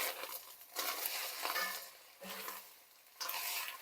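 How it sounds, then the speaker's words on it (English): A spoon stirs beef chili in a pot after garlic powder goes in, giving scraping, sloshing stirring strokes in several bursts over a soft sizzle, close and moderately loud with no talking. "We'll give this a quick stir."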